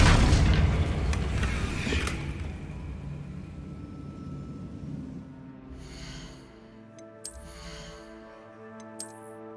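A loud boom and rumbling blast from the Confringo fire spell in the PC game Hogwarts Legacy opens the scene, its roar decaying into a low sustained rumble with a couple of brief sharp magical chimes later.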